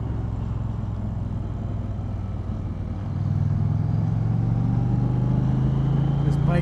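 A 2020 Indian Challenger Dark Horse motorcycle in sport mode rumbles with a loud, steady engine drone whose pitch climbs partway through, heard up close during a demo ride in Fredericksburg, Virginia.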